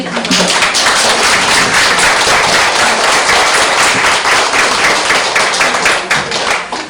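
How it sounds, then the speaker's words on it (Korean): Audience claps at the end of a lecture, a loud, sustained and dense wash of applause from a room full of people that holds steady throughout, with no speech on top. "우리는 또 참여해주신 선생님들께 깊은 감사의 박수를 드릴게요"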